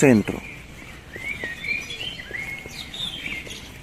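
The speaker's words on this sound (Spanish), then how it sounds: "Escuchen los pajaritos" Small birds chirp and twitter in quick bursts at a moderate distance, following a brief voice at the start, with faint outdoor background, in a garden in central Eger, Hungary.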